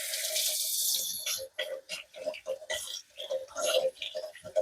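Hot tap water runs steadily from a kitchen faucet over an offset spatula while preparing a gluten-free pumpkin roll, a bright continuous splashing that breaks into uneven gushes as the utensil moves through the stream.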